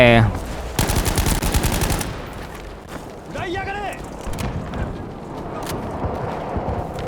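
Rapid automatic gunfire rattles in a loud burst from Battlefield V, followed by quieter scattered shots and battle noise, with a voice talking over parts of it.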